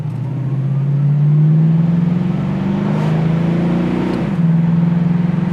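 A 1973 Ford Mustang convertible accelerating through the gears: a steady, close engine drone climbs in pitch, dips briefly at a shift near the end, then pulls on again.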